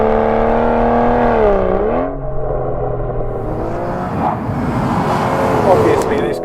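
A 2017 Aston Martin Vanquish engine drones loudly while driving, its pitch dipping and rising with gear and throttle changes, heard continuously from close range.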